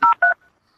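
Two short dual-tone dialing beeps from a landline telephone keypad, loud and close, with a brief pause between them and a faint trailing tone.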